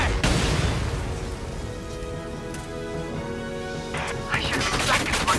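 Gunfire in Valkyria Chronicles 4 battle, a dense burst of shots at the start followed by a sustained rumbling roar and more crackling bursts near the end, loud and close, with some voice mixed in.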